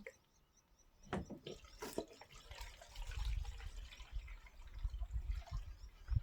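Seawater poured onto the soil of a ginger field, a soft wet splashing and trickling that builds after a quiet start and carries on steadily, close by, with no talk over it.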